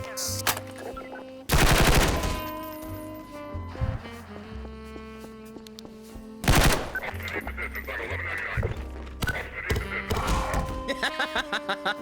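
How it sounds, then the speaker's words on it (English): A Tommy gun, the M1927 Thompson, fires in a video game in loud rattling bursts among other gunfire and game music, with shouted voices over it. "Tommy gun!"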